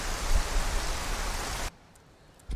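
Loud, steady rain in the video game Skyrim hisses evenly, then cuts off abruptly, leaving near quiet broken by a couple of faint thumps.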